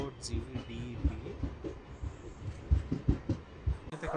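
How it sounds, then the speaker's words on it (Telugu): Ambience at Gudivada Junction railway station: a train rumbles with soft clacks and thuds beneath someone talking nearby, and a few faint clanks from the platform. "Welcome to Gudivada junction railway station."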